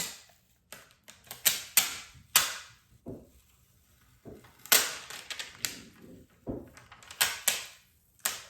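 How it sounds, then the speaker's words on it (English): Strong tape peels off in sharp crackling bursts, several quick rips separated by short pauses, close and fairly loud. "you can hear it, it's really strong tape"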